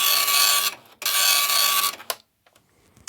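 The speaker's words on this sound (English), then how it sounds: "The printing mechanism and paper feed mechanism seems to be back in business." An Epson RX-80 dot matrix printer runs loud and close, its print head buzzing in two long harsh bursts with a brief pause between, then the paper feed mechanism clicks and whirs in short ticks before going quiet.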